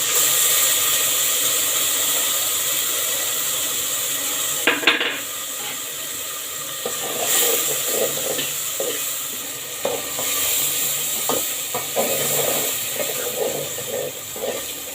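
A spice paste of ginger, cumin, coriander, turmeric, chili and salt sizzling as it fries in a pan, a steady hiss broken by the scrape and clink of a spoon stirring against metal, close and alone.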